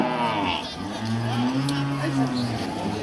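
Cattle at a large cow market moo loudly and close by, with long low drawn-out calls that overlap one another above a busy crowd murmur.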